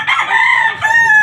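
A seven-month-old rooster, a home-bred gamefowl, crows once loudly and close by, the call held for over a second with a brief dip partway through.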